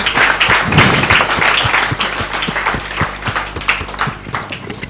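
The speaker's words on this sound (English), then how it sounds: "Please, let's give him another round of applause." A lecture audience on Yoruba history gives a warm round of applause, dense steady clapping that fills the room and fades slightly toward the end.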